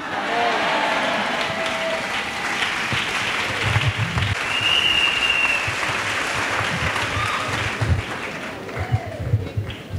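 Sustained applause fills a church celebration, a dense steady clapping from a large congregation lasting throughout, with a faint whistle-like tone briefly rising above the crowd.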